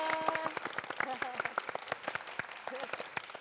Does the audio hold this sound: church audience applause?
yes